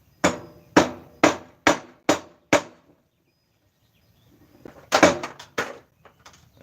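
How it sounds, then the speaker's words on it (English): A mallet striking a metal lathe center, five sharp evenly spaced knocks, a pause, then a quicker cluster of blows, close and loud with no talking. "I'm going to use the mallet."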